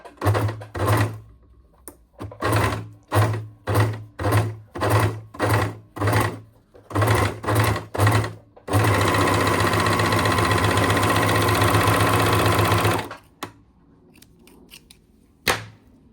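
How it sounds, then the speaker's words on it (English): An overlocker serger stitches a 3-thread overlocked edge, first in a string of short rhythmic bursts, then in one loud, steady run of rapid mechanical whirring and clatter lasting several seconds, followed by a brief final burst. "let's stitch it and actually see"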